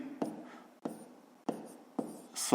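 Pen strokes on paper as numbers are written out for a fifth-grade math exercise, four short scratchy bursts at roughly even intervals, close and quiet, with a faint voice sound at the very end.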